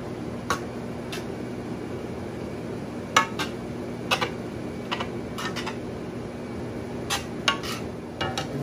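Rice is stirred into a stuffed bell pepper filling in a bowl, giving sparse, light clicks and taps of a utensil against the dish over a steady low background hum, with no talking.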